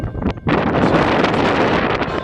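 Strong wind gusting across a hilltop citadel on Gozo, buffeting the microphone in a loud continuous roar that buries any church bells ringing below; no voices.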